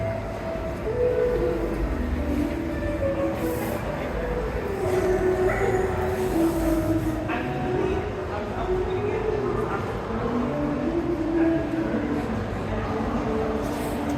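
Trains rumble steadily on the tracks at Grand Central Terminal in New York, a low continuous roar under the murmur of people talking nearby.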